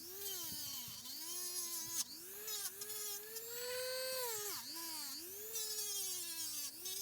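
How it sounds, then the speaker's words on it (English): Wire wheel polishing metal on a 1974 Chevy C10, a high whining spin whose pitch rises and dips repeatedly as the wheel is pressed against the metal and eased off, loud and close. "A little wire wheel polish."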